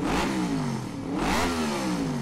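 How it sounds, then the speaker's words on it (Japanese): A gang member's motorcycle engine revs hard at night in a town street, a loud, continuous roar rising and falling twice in pitch as the throttle is worked, close and alone without talk. "俺たちは毎晩街にエンジン音を響き鳴らし暴走行為をしている。"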